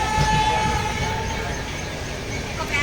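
Steady rumble and rattle of the KCG express superfast passenger train running, heard from inside a carriage by a window seat, loud and continuous throughout, with a faint horn-like tone.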